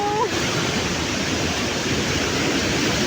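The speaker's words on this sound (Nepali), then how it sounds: "यो पहाडतिरको घट्टा पुस्ने ठाउँ, यसलाई हामीले पानी घट्टा भन्छौँ" A traditional water-powered mill in the hills, used to grind maize into flour, gives a loud, continuous rush of flowing water that dominates the scene, broad and steady, with a brief faint tone near the start.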